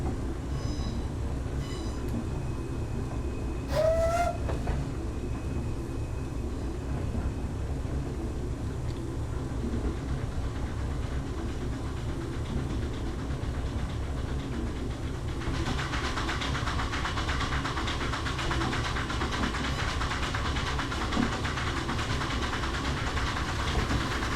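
Narrow gauge locomotive on the Corris Railway in Wales, simulated in Train Simulator 2021, running with a steady rumbling rail roar throughout, a brief squeal early on, and brighter wheel and track noise swelling in the second half.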